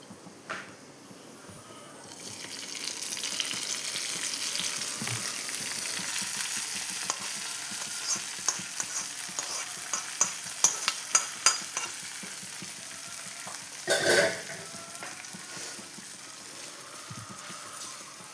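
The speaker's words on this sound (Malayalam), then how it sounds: "ഇനി നമ്മുടെ കറിയിലേക്ക് ഈ കടുക് വറുത്തത് ഒഴിച്ചു കൊടുക്കാം." Tempering of mustard seeds fried in a hot non-stick pan is poured into a drumstick, onion and tomato curry, bursting into a loud, steady sizzle with crackling pops that gradually fades, with no talk.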